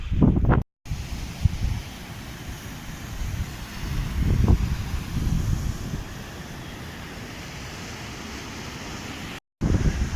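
Steady wind blowing through a valley in the Santa Cruz trek area across an open microphone, a broad rushing roar with a few stronger gusts, two brief dropouts, and no voices.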